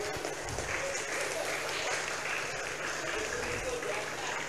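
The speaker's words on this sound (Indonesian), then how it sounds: "tepuk tangan loh." Audience applause at an Islamic sermon by an Indonesian preacher: a steady, dense wash of clapping that holds for several seconds at even loudness, with a crowd murmur beneath.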